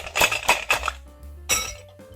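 Ice cubes clink and rattle against glass in several quick bright hits, then a final louder clatter, close up with no speech.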